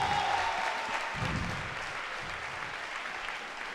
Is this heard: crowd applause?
yes